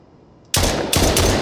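Loud, dense bursts of automatic gunfire from a zombie shooter video game prototype, two close rapid volleys erupting after a brief quiet moment.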